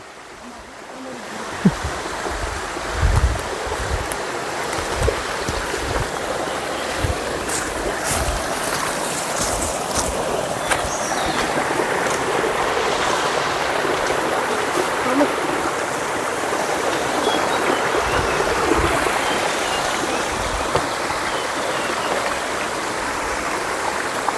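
Rushing water from a stream at a hidden spring in a forest, a steady broadband roar that holds close and loud throughout, with a few brief knocks early on and occasional faint voices.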